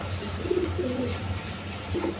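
Low, throaty cooing from King and colouring pigeons housed with eggs and chicks, rolling in a few short phrases alone over a steady background hum.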